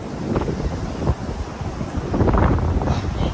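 Wind gusts across a seashore and buffets the microphone in loud rumbling waves, with surf noise mixed in and no voices.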